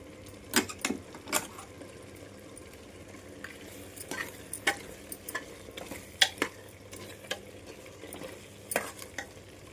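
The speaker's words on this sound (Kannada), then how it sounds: "ಈಗ ಒಂದು 5 ನಿಮಿಷ ಫ್ರೈ ಆಗಲಿ" Coconut masala frying in a pan for a village-style mutton biryani, with a low steady sizzle broken by sharp scraping stirs and clinks of a spoon at irregular intervals, close and unaccompanied by talk.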